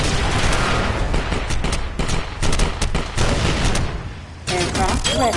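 Artillery fire in the VR game League of War VR Arena: a loud, dense barrage of rapid shots and booming blasts with little pause, ending in a short burst of sharper shots.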